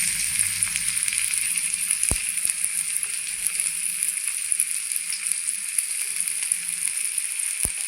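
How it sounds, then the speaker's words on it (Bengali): Chopped onions and green chilies frying in oil in a kadai give off a steady, bright sizzle and crackle at moderate volume, with a couple of sharp clicks from the utensil. "দেখুন ভেজে নেওয়া হয়ে গেছে লঙ্কা পেঁয়াজ"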